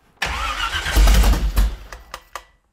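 Car engine cranking and catching with a loud, close burst as it fires, then settling and sputtering through a few uneven revs before cutting off.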